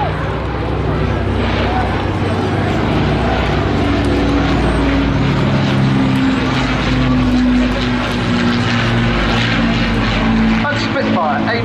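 A propeller-driven warbird, a Hurricane or Lancaster, flies a display at Southport Airshow 2023, its engine droning loud and steady with a slowly shifting pitch as it passes.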